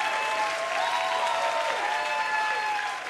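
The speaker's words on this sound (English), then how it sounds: "I get applause." At a stand-up comedy show, an audience breaks into steady, dense applause for a few seconds, fairly loud and sustained before easing slightly.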